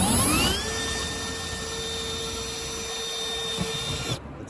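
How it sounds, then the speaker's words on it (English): A power drill whirs up to speed with a rising whine, then holds a steady high-pitched tone drilling through a fiberglass car body kit panel before cutting off abruptly. "we're really only going to be drilling through the actual fiberglass this time"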